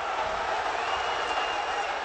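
A Brazilian football crowd of Atlético-MG supporters cheers and applauds after a goal, a steady, moderately distant roar that continues throughout while a commentator talks over it.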